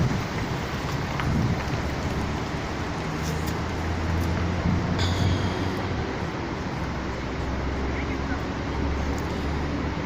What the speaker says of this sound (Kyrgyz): Жамгыр жауып атат мына бүгүн.